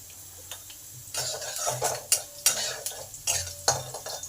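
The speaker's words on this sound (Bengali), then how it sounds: "রসুনটাকে একটু ভালো করে ভেজে নেব" Chopped garlic fries in hot oil with a steady hiss. A spoon scrapes and taps the pan in a rhythm of sharp strokes every half second or so.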